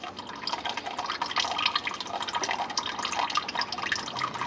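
Engine oil drains from a vehicle's underside into a drain pan in a shop, a steady, close patter and trickle of liquid with dense drips throughout and no talk.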